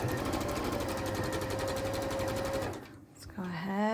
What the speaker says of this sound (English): I'll sew 1 together with you